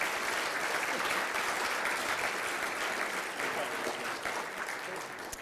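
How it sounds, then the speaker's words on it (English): Sustained round of audience applause for the morning briefers at a Defense POW/MIA Accounting Agency meeting, dense and even clapping that tapers slightly toward the end. "if we could have a round of applause for our briefers this morning"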